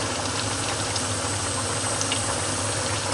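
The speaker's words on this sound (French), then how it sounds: "Donc on va laisser bouillir." Water boils in a pot for Togolese adémédéssi sauce, a steady close bubbling roar that stays even throughout, with no talking.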